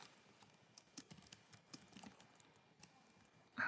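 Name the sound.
typing on a computer keyboard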